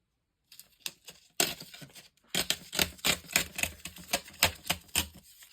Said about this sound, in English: I will tear it a little bit more